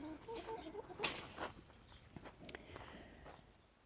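Two roosters and three hens cluck quietly in a pen, with a few short, faint calls and soft scuffling and footsteps in the background.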